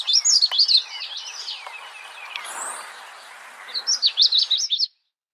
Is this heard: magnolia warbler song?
yes